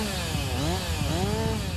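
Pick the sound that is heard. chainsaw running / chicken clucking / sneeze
chainsaw running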